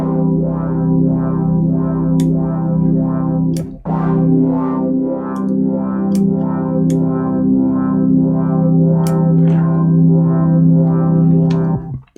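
A sustained, buzzy FM synthesizer tone with a thick, chorused unison spread, holding steady for several seconds, briefly cut once, with small clicks along the way.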